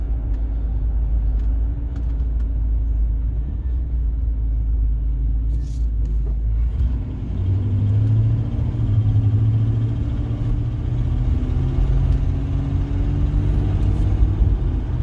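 A 1992 Buick Roadmaster with its alignment off cruises along, giving a steady low road rumble and engine drone that holds throughout, with no talking.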